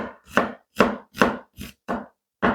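A knife chops onions into slices on a board: six sharp, distinct cuts at an uneven, deliberate pace, close and crisp with no talking.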